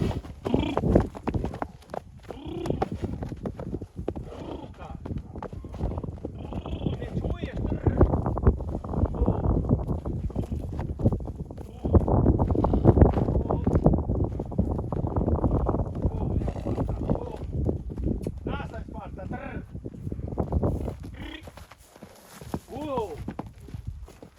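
Heavy draft horses pull a wagon, their hooves clip-clopping in a steady rhythm close by, with wind noise and people talking and calling to the horses throughout.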